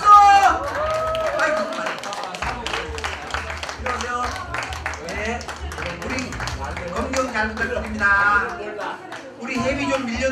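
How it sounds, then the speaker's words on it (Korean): Applause from the guests at a year-end party of a Korean prosecutors' and police hiking club, a dense, steady patter of many hands carrying on for several seconds with voices and background music underneath. "박수!"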